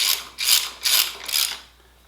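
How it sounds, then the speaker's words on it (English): Ratchet wrench tightening the cylinder head bolts on a Ford 8N tractor, four loud, close bursts of rapid clicking in an even rhythm, the last one fading out. "you just slowly tighten them down, then you do a final torque of 65 to 70 foot-pounds"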